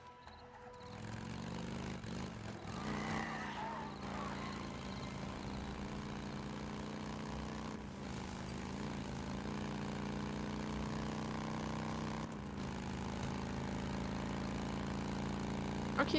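A motorcycle engine idles in the zombie survival game Days Gone, a low continuous rumble holding steady throughout, fairly quiet with a few faint clunks.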